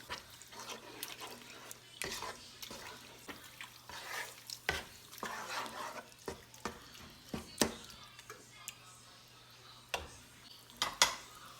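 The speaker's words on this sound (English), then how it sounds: "Now we're going to fry this for about 10 to 15 minutes to reduce the taste from the tomato." Nigerian chicken tomato stew fries in a pot under a soft, continuous sizzle, broken by irregular sharp clinks and scrapes of a spoon stirring against the pot, close and moderately loud, with no talking.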